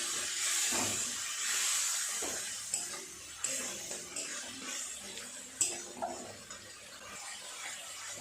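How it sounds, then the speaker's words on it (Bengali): Spice paste sautés with a splash of water in a pan, giving a soft hiss and bubbling steam punctuated by a few scraping stirs and utensil clinks, fairly quiet throughout. "খুব ভালো করে মশলাটা কষাবো"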